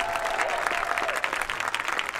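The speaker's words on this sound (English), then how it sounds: "let's give a big round of applause for the guard." A crowd applauds the marching band's guard at an end-of-season 2021 gathering, a steady patter of many clapping hands close by with no pause.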